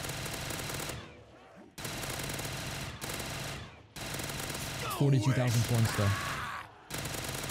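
Rapid bursts of automatic gunfire in a zombie survival video game, several sustained volleys broken by short pauses, loud and close with someone talking over parts of it.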